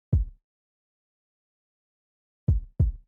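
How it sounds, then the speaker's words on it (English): An EQ'd kick drum sample hits three times in isolation, one thump then a pause and two quick deep punches in succession, clean and close with silence between. "so that kick sounds like this"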